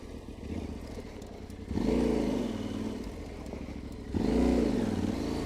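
An adventure motorcycle's engine running steadily, then surging twice in bursts as the rider brakes hard and the front wheel locks, close and loud with no voices.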